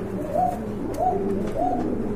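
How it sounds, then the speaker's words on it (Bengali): A pair of black-faced pigeons, a nesting male and female, coo close by in three soft, evenly spaced rising-and-falling calls over quiet background noise. "এইখানে রয়েছে এক জোড়া ব্ল্যাক মুখী কবুতর"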